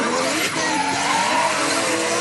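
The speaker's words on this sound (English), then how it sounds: "As they turn in, Vince comes in really early, but Dex got plenty of angle" Drift cars slide through a corner at Anglesey Circuit during a European Drift Championship round, tyres squealing continuously and loud over roaring engines, with an announcer's voice faintly mixed in.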